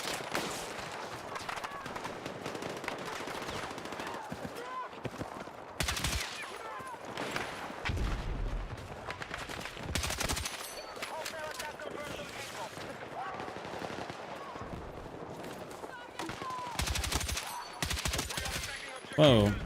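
Bursts of automatic gunfire in the video game Battlefield 6, scattered loud volleys at varying distances over continuous background game noise, with someone talking throughout.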